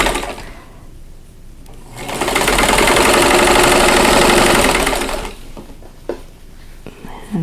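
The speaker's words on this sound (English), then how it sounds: "I'm going to sew them together 2 pieces at a time here" A sewing machine chain-pieces quilt block patches two at a time, its close motor buzzing loud and steady for a few seconds before stopping, with quieter fabric handling and clicks around it.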